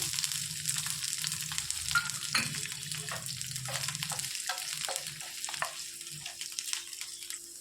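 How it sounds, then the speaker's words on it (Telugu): Chopped onions frying in a tablespoon of oil in a pan, a continuous close sizzle with occasional stirring scrapes. "ఇందులోనికి ఉల్లిపాయలు, ఇట్లా కట్ చేసుకున్న ఉల్లిపాయలు వేసుకొని వేయించుకోవాలి."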